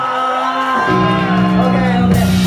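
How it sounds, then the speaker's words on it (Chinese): An audience at a live heavy rock band show cheers and whoops for the drummer, with loud sustained shouting voices filling the space. "鼓手阿添，俾掌声好唔"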